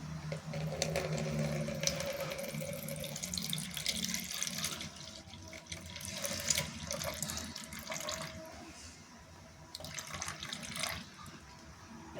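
Homemade fish amino acid, a liquid organic fertilizer, is poured into a container in a continuous, soft splashing trickle that lasts several seconds, with no talking.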